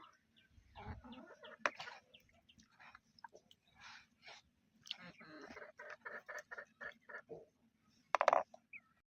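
Soft, irregular clucking from a couple of chickens, close by in a quiet space, with a sharper squawk near the end.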